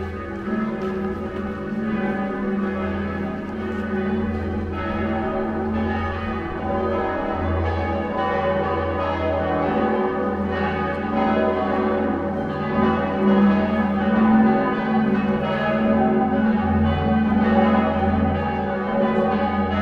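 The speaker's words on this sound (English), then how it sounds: "the atmosphere, which is turned up to 11 when the bells are in full toll" Cathedral bells in Avignon toll in full, a dense, ringing wash of overlapping peals that carries on steadily and loudly throughout.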